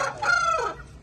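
A rooster in a backyard bird and poultry setup gives one short, close crow, a bright rising-then-falling call of about a second that stands alone.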